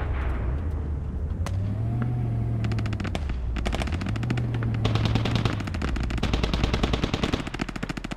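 Sustained automatic gunfire from a video game Squad firefight rattles in rapid, loud bursts, the densest volleys in the second half, over a low engine-like rumble.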